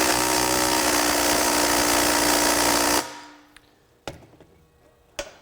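A Makita XGT 40V brushless four-speed impact driver, model GDT01, hammers continuously and loudly for about three seconds while tightening a bolt, then stops, leaving quiet handling clicks and taps.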